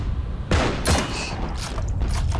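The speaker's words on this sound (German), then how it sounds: "Ja, und ich schieße drauf." Gunfire in the video game Heroes & Generals: two heavy bursts of shots ring out close, followed by scattered fainter shots and a steady background rumble of battle.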